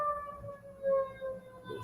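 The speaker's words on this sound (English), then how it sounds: "It's the ambulance." An ambulance siren wails in a steady rising and falling tone, moderately distant and fairly faint, heard alone without talk.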